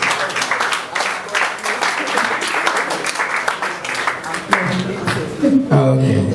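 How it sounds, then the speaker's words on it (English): An audience at an engineering society event gives Engineer Abiola Koshebe a round of applause, clapping steadily and fairly loudly throughout, with some talk and music mixed in toward the end. "Please sound a round of applause."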